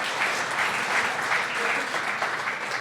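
Steady, dense applause from a live wrestling audience at a WrestleMania panel, a continuous wash of many hands clapping at even loudness throughout.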